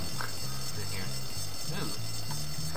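A pulled fire alarm blares inside the Bully Scholarship Edition game, cycling rapidly through a harsh alternating tone at constant volume, with faint background chatter and game noise mixed in.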